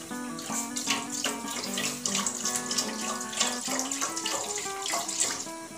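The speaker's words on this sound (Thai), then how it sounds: "แล้วเติมน้ำเปล่าลงไปครับ" Plain water poured from a tap or vessel into coconut milk in a pot for a Thai dessert, a steady close splashing and trickling stream that lasts throughout, with no talk.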